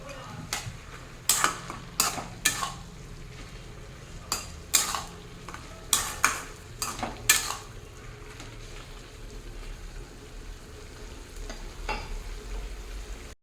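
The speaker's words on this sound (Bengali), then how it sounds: "এখন দিয়ে দেবো ভেজে রাখা বড়িও উঠছে। সবগুলো ভালো করে মিশিয়ে দেবো।" Bitter gourd, greens, sweet potato, aubergine, potato and fried lentil dumplings stirred together in a pan for a chorchori, with a series of sharp spoon-against-pan scrapes and clanks over a low sizzle that later settles to a quiet simmer.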